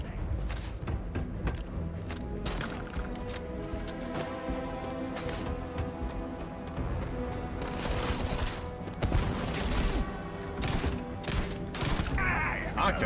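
Gunfight in the sci-fi game Starfield, with repeated sharp shots and bursts of fire, thuds and mechanical clatter over a busy soundtrack, fairly constant and dense, growing heavier toward the end.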